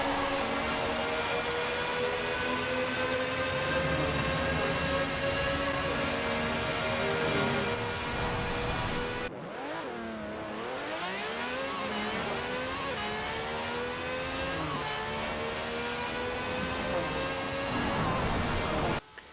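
A car with over 1,000 horsepower accelerating hard in Forza Horizon 4, loud rising engine tones climbing through the gears, a brief drop at a shift midway, then revving up again close and alone.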